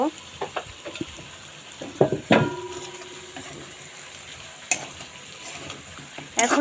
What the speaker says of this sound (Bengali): ভাজা আলুগুলো দিয়ে